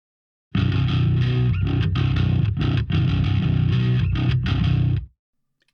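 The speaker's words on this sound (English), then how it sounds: "So this is the SVT recorded with an AKG D112 mic, and that's the sound over here." Bass tone from an Ampeg SVT amp patch in STL Tonehub, miked with an AKG D112, played in loud, heavily distorted, choppy riff bursts with brief gaps, ending abruptly in silence near the end.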